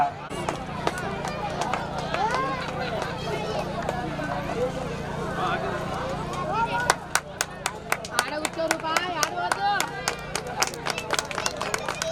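Applause from the audience at a Kurni (Nese) community forest-feast celebration and honouring ceremony, a dense burst of sharp claps that grows in the second half over a steady crowd murmur and talk.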